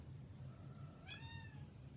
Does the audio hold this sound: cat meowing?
yes